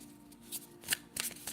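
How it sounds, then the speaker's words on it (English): Tarot cards being shuffled by hand in a quiet room, a few short riffling bursts with soft rustles between them, close and fairly quiet. "let's start shuffling and getting your piles ready."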